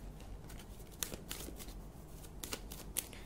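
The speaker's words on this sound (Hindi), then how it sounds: "एक और फाइनल कार्ड निकालूंगी।" Tarot cards being drawn and shuffled during a Hindi tarot reading, a soft papery riffle with several crisp snaps and flicks scattered over a few seconds, close and fairly quiet.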